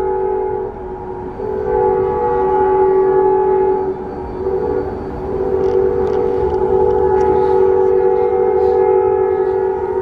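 A loud train passes near a hotel in Tucson, Arizona, its sustained horn-like tones and heavy rumble filling the whole stretch with steady, close, continuous noise and no talking.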